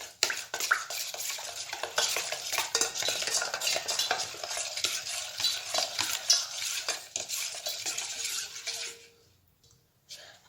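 Chocolate mousse mixture sweetened with sugar being stirred briskly in a bowl, a dense, continuous scraping and swishing of a utensil that runs steadily before stopping with a few last taps near the end.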